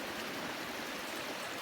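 Whitehorse Creek rushing steadily through a mountain campground area near a mine's super tube culvert, a dense, continuous close-up wash of flowing water with no voices.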